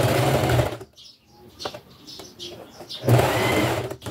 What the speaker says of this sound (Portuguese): Aí vamos passar uma costura.